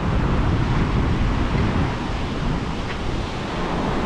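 Ocean waves and surf rolling in at a beach on a spring break day, a steady broadband wash of breaking water and wind noise that eases slightly midway and carries on with no talk.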